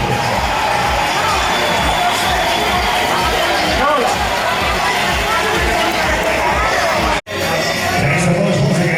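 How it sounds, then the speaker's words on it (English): Audience at a beauty pageant cheering and applauding a contestant on stage in a hotel venue, a loud dense roar of crowd noise and clapping with whoops, continuous apart from a brief dropout near the end. "Big round of applause for Miss Sophia Simon."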